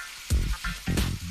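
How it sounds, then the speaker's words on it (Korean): Slices of pork belly sizzle in a frying pan close by, a crackling fry that swells in two louder surges, with no talking. "지글지글 소리만 들어도 맛있는 삼겹살"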